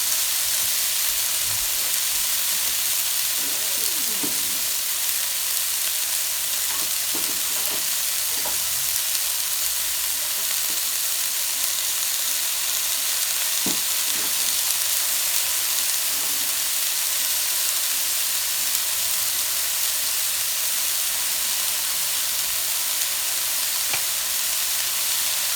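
Bacon and pineapple fried rice sizzles steadily in a hot pan, a loud, constant frying hiss with occasional faint clinks and crackles, heard alone without talk.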